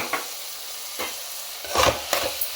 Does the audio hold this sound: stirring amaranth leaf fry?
yes